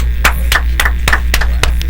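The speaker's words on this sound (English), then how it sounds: "I need to clap for you again." A single person claps in a steady rhythm, about seven crisp, loud claps close to the microphone, over a constant low background hum.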